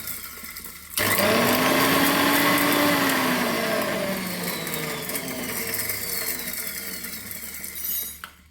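A mixer grinder grinds dried red chillies into flakes, starting abruptly with a loud, continuous whirring roar. The pitch shifts as it runs, and the sound stops sharply after about seven seconds.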